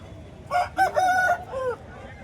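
One rooster's full crow rings out clearly at a Bhadradri Kothagudem hen market, rising and breaking into a drawn-out tail, with low market noise around it and no talk over it.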